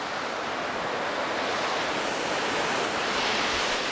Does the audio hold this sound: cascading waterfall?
yes